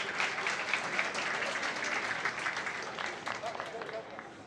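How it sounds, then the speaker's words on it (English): At a women's skeet shooting final at a world shotgun championship in Moscow, a spectator crowd applauds steadily for several seconds, moderately distant and fading slightly toward the end. "And now we've got a round of applause."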